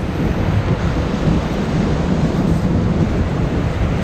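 Steady, loud wind roars and buffets the microphone without a break on the beach at Perch Rock, with a broad rushing noise like open shoreline air.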